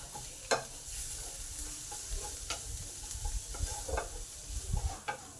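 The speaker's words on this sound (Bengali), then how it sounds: "এই সময় হলুদ গুঁড়ো আর জিরে গুঁড়োটা দিলাম, দিয়ে ভালো করে নেড়ে নিই" Turmeric and cumin powder stirred into tomatoes frying in a pan, with a soft, steady sizzle and irregular scraping strokes of a spoon, quiet and close, with no voices.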